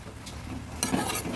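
A cooking pot covered with a lid over snake gourd simmering in a little water, with a soft metallic clink followed by quiet sizzling and bubbling, close by with no talk.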